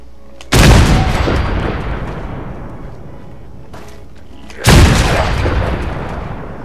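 Two loud, close gunshots from a heavy-recoil gun in the video game Fallout 4, each a sharp blast with a long rumbling decay, spaced about four seconds apart with a faint click between them.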